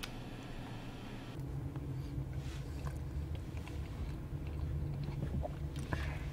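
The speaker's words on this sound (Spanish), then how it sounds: "Ya estás tragando otra vez" Someone eats food nearby with soft, wet chewing and biting sounds over a low, steady background hum, quiet and close, with no talk.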